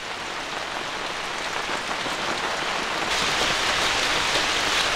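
Heavy rain pours down at a campsite in Takayama under a flood warning, a dense, steady hiss that grows louder and heavier partway through, with no talk.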